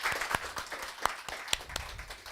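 Scattered applause from a seminar audience, a modest group clapping at a loose uneven rhythm with a few sharper claps standing out, moderately near.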